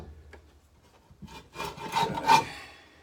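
A brush scrubs around the blade bolt on the underside of a Honda 216 lawn mower, starting with soft faint strokes and swelling into a few louder, rough rubbing passes near the microphone.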